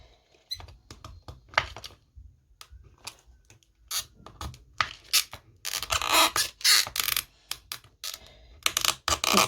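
A precision knife cutting around a plastic bottle, heard up close as quiet, irregular clicks, crackles and scraping bursts that grow busier and sharper toward the end.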